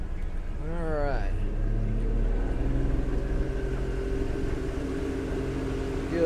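A Mercury 90HP two-stroke injected outboard motor on a 2005 Duckworth Advantage boat idles steadily at low, even revs after starting, with a short rising whine early on and faint talk underneath.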